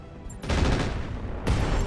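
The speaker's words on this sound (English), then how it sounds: "if I fire with that Pegasus here, it's probably gonna be a kill shot." A heavy mech's Pegasus weapon fires in the Roguetech BattleTech mod: two loud, dense bursts of booming gunfire, the first sustained for about a second and the second starting a moment later, close and without speech.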